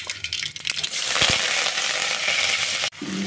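Cumin, mustard seeds, green chillies and curry leaves fry in hot oil for an onion egg dish, giving a loud, close, steady sizzle with crackling pops and a brief clatter near the start.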